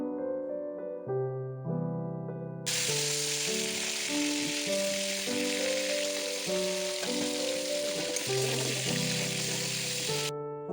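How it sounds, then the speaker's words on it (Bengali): Crab pieces dropped into hot oil for a Bengali crab curry, giving a steady, loud sizzle that starts abruptly partway in and holds until near the end, over faint background music. "এদিকেও তেলটা গরম হয়ে গেছে, এবার এর মধ্যে একে একে ছেড়ে দিতে হবে সমস্ত কাঁকড়াগুলো।"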